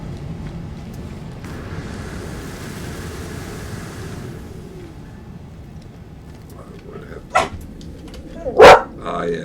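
A dog barks outside, two short sharp barks near the end over a steady low background hiss, heard from indoors.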